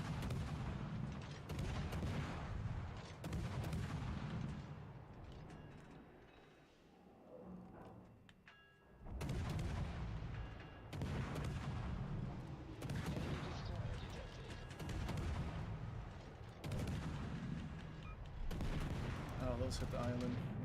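Battleship gunfire in World of Warships Legends rolls out in repeated heavy, booming salvos with sustained rumble, broken by a brief quieter lull midway.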